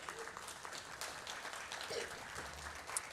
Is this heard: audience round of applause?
yes